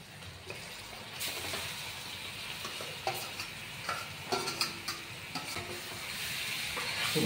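Chicken pieces fry in a hot pan with salt and turmeric, giving a steady sizzle broken by scraping stirs and a few sharp spoon clinks on the pan, close and continuous without talk.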